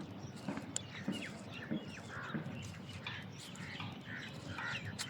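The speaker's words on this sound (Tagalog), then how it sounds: "Ayan na maririnig mo, huni ng mga ibon." Birds chirping and calling at Mamzar Beach Park in Dubai, with crow-like caws and scattered tweets over a faint outdoor background hum, distant and quiet throughout.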